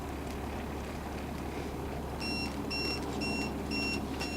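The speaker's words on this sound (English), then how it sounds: "That'd be a shallow water alarm" A boat's shallow water alarm beeps in short repeated pulses, about five evenly spaced electronic tones over a steady engine hum.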